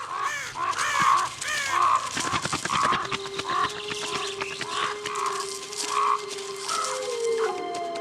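Ravens in a wild Nordic landscape call repeatedly, a run of harsh croaking caws close by, loud and spaced a second or so apart, with a steady lower droning tone underneath in the second half.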